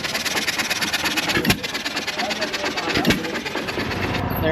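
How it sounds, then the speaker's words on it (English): A John Deere hit-and-miss engine at an outdoor flea market turns a homemade ice cream maker, chugging steadily with two heavier firing thumps about a second and a half apart, and faint voices nearby. "Got the John Deere hit-and-miss engine turning the ice cream cone over here"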